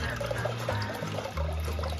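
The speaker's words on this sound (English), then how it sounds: "What it's doing is it's circulating the water like a little baby water fountain." Sous vide circulator churning a pot of water for poached eggs, a steady close bubbling and trickling wash with a low pump hum underneath, continuous throughout.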